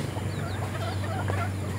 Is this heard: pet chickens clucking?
yes